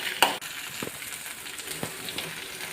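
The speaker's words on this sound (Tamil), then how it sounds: "நல்லா வதக்கிக்கிட்டே இருங்க." Garlic and shallots, added with neem leaves and cashews, sauté in a pan for bisibelebath, giving a soft, steady sizzle with a few faint stirring scrapes and clinks.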